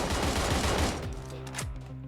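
A QBU marksman rifle from PUBG Mobile fires in a dense, continuous clatter of shots for about a second, then fades into a quieter ringing tail with one more faint report, loud and alone without talk.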